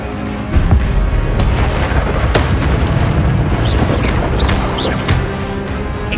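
A spell being cast in the PS5 game Hogwarts Legacy, heard as loud booming, bursting magic impacts in dense game combat with continuous rumbling and whooshing effects throughout.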